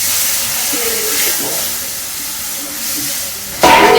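Water poured into a hot pan of frying turmeric and chili gives a loud, steady, steamy sizzle that flares into a sharper burst near the end.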